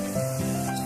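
Cumin powder sizzling in hot oil as it is stirred, a steady close frying hiss with a faint underlying hum, no voices.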